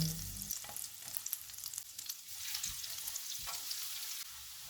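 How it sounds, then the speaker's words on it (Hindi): Gentle, steady sizzling of chopped garlic frying in butter over low heat, quiet and close, with faint stirring scrapes now and then. "इसमें 2 टेबलस्पून चॉप किया हुआ लहसुन डालेंगे। चूल्हे को कम रखेंगे, इसको लाइट गोल्डन फ्राई करेंगे"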